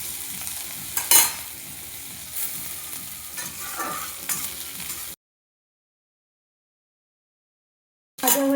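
Garlic frying in a pan gives a close, steady sizzle with a few brief stirring scrapes for about five seconds, then silence before a short loud burst returns at the end.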